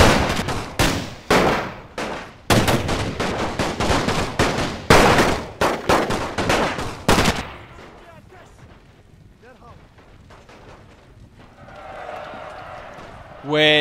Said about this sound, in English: it's gonna stand and fire at them